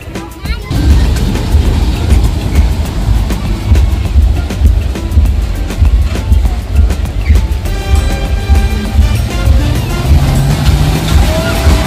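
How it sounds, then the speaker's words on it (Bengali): A small caterpillar ride train at the Wild Waters amusement park starts up, rumbling into motion with a steady mechanical drone and clatter, continuing loudly under faint background voices. "এখন ট্রেন এখন স্টার্ট হবে"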